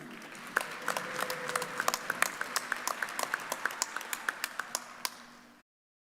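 Sparse, scattered hand claps from a commencement ceremony audience honoring graduates, fairly quiet and distant, with a steady run of separate claps and no loud crowd swell.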